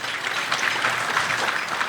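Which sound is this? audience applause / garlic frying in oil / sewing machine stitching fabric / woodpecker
audience applause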